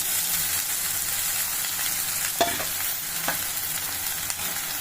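Bitter gourd fries in hot oil with garlic and onion, a steady dense sizzle running throughout, broken by a couple of brief stirring scrapes near the pan, with no voices.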